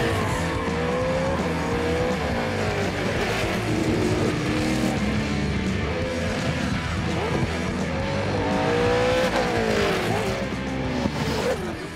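A race car driven hard on a track, engine revving up and down through gears with tire squeal and skidding, loud and continuous from inside the car.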